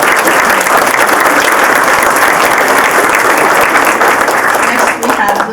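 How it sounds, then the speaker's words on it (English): A town hall audience applauds a speaker, loud sustained clapping with crowd noise mixed in, steady throughout and dipping slightly near the end. "You can give him a round of applause."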